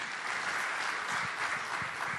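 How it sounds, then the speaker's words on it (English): A big audience claps steadily at the Usyk vs Joshua 2 rematch press conference as the boxers are welcomed on stage. The applause forms a dense, continuous wash that holds even for the whole stretch. "Let's give them a round of applause, please."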